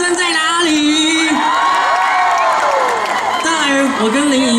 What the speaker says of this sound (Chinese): 大鹏湾的朋友，尖叫声在哪里？